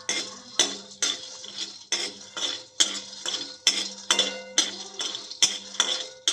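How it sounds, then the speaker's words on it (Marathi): Peanuts roasting in a hot iron kadhai are stirred with a metal spoon, making a steady series of sharp clinking scrapes at a regular beat, close and loud with no talk. "शेंगदाणे चांगले खमंग भाजून घेऊयात"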